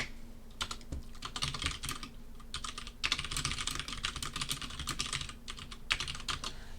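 Rapid typing on a computer keyboard, clustered bursts of key clicks with brief pauses, as a test program is written during a lecture; the clicks are close and moderately loud with no talking.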